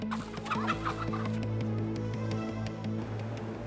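Several chickens cluck and chatter nearby on a farm over a steady low mechanical hum.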